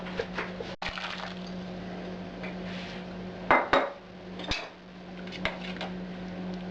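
Frozen green peas tipped into a pot of boiled potatoes for soup, a scatter of light clinks and rattles against the pot with a couple of sharper clatters over a quiet background hum.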